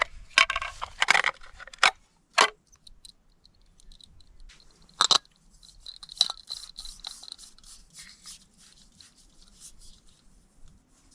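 Someone crunches on fried trout with crispy scales during a catch-and-cook at a remote desert creek, giving close, intermittent crisp bites followed by quieter chewing.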